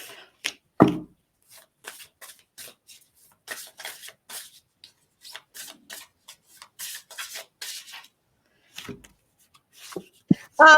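Cards being shuffled for readings, with soft intermittent riffles and rubbing strokes close by in a quiet room, separated by brief pauses.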